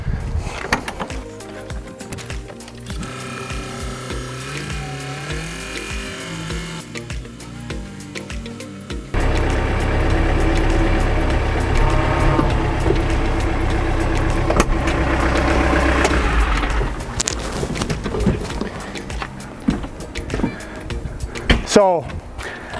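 A tractor with a KAGE under-hitch undercarriage and SnowFire system idles, then its engine swells louder as it backs up and drives forward, with clunks and a voice talking intermittently over it.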